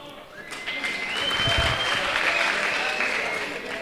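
An audience applauds steadily at a comedy show, a dense, sustained wash of clapping that holds at an even level throughout with no voices over it.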